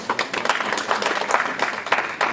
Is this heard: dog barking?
no